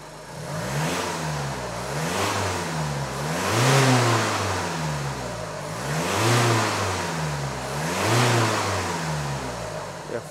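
The engine of a 2018 Skoda Octavia is revved repeatedly at close range, rising and falling in three or four smooth, loud swells over a steady mechanical drone.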